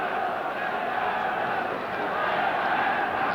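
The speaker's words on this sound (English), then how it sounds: "the roars from these crowds" A big football crowd roars steadily at a stadium during a Stoke City v Aston Villa match, a dense sustained wall of voices with a large travelling support, loud and unbroken.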